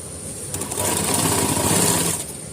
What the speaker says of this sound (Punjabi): ਹੁਣ ਆਪਾਂ ਤੁਹਾਨੂੰ ਸਲਾਈ ਲਗਾ ਕੇ ਦਿਖਾਉਣੇ ਆ